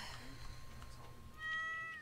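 A cat in the Stardew Valley video game meows softly a couple of times, with faint game background sounds and a brief tonal chime near the end.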